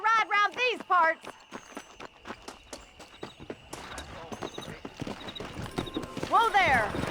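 Galloping horse hooves in the Red Dead Redemption video game, a quick clip-clop rhythm of close hoofbeats, with a horse's whinny and someone talking over it.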